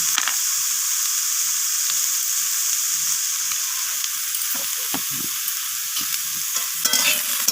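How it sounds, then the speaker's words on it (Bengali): Eggplant frying in oil with turmeric and salt is stirred in a pan, giving a loud, continuous close sizzle with occasional scraping stirs and no talk. "লবণ আর হলুদটাকে দিয়ে আমি বেগুনটাকে আবারও নাড়াচাড়া করে ভেজে নিচ্ছি"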